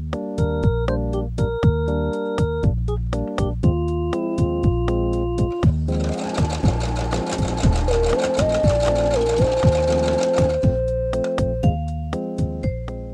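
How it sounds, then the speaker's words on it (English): A sewing machine runs while top stitching along the edge of a fabric bag strap, its hum partly blended with steady musical tones, and a denser stretch of mechanical whirring stands out midway. "Then top stitch along the edge of the strap."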